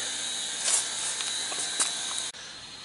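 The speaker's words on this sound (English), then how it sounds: "I'm going to touch this one up on the bench grinder" A bench grinder touches up a piece of metal in a workshop, giving a continuous high whine with a few brief grinding bursts as the piece meets the wheel. The whine cuts off abruptly near the end.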